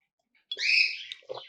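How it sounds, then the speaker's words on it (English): A bird's bright, sustained chirp rings out close by, followed by a short burst of quicker chirps, with near silence before it. "you're going to hear my birds in the background"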